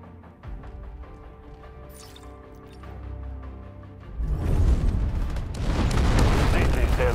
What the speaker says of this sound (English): Artillery cover coming.